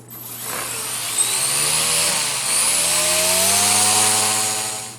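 Brushless-converted Blade mCP-X RC helicopter with SR120 tail motor spinning up its main rotor blades, a loud rising whine with a buzzing rotor drone that holds steady and then tapers off, close by with no talk.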